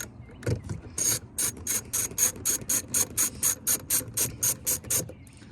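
A socket ratchet backs out the screws holding a tow mirror on a 2018 Chevrolet Silverado 1500, about a dozen crisp evenly spaced clicking strokes up close after a couple of initial knocks.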